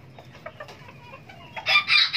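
Serama bantam chickens give soft, scattered clucks close by, then a sudden loud, harsh burst of calling closes the sequence; no one speaks.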